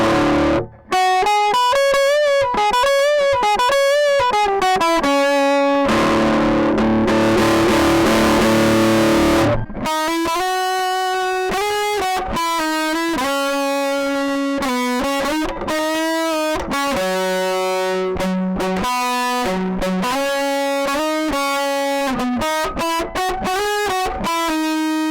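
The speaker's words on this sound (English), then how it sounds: "And this is a pretty nice distortion I like." Guitar distortion pedal picked up through a contact mic, a heavily distorted, harmonically rich tone played as a run of sustained and shifting notes, loud and continuous throughout with no talking.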